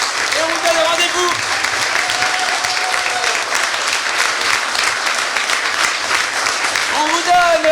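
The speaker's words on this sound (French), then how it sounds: "un tonnerre d'applaudissements pour tous les élèves" A festival crowd gives loud, sustained applause for improv students of Ch'Nord Impro. The dense clapping fills the whole stretch while a voice speaks over it at the start and again near the end.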